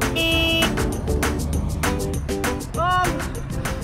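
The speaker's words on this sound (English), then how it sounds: "I got some honks today" A car horn honks several times in short toots over a busy roadside traffic rumble, and one longer, louder honk comes near the end.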